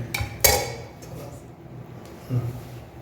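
Potato and brinjal gravy is stirred in a pan with a metal spoon, giving two loud clanks and scrapes at the start and another knock near the end, with quieter scraping in between.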